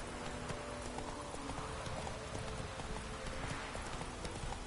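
Horse hooves clip-clop steadily on the ground in The Witcher 3 video game, a continuous rhythmic gait with an occasional whinny, set against a busy game soundscape.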